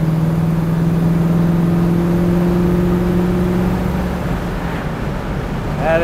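A 1966 Ford Mustang Fastback accelerates through a turn with a loud, steady engine drone heard from inside the car. The pitch rises gradually and then levels off, with no talking.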